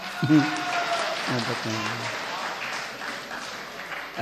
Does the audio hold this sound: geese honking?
no